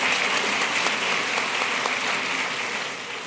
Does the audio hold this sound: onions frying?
no